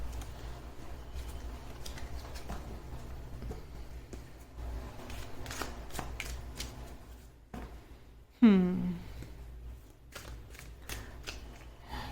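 Tarot cards are shuffled by hand, making soft, quiet riffling rustles and light taps scattered across the clip beneath a person speaking softly.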